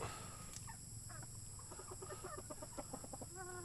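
Several chickens cluck in short, choppy bursts close by, with a steady low murmur of farmyard noise beneath them.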